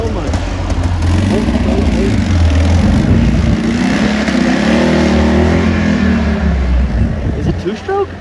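A red Mazda Miata engine running rough at an outdoor car show, a loud, uneven idle with wavering drone and sputter, heard up close while people talk over it.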